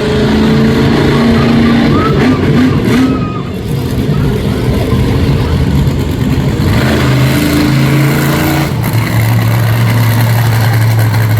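Monster truck Amped Up at a live wheelie competition, its heavy engine rumbling and revving loudly and steadily near the microphone, with crowd and arena noise beneath.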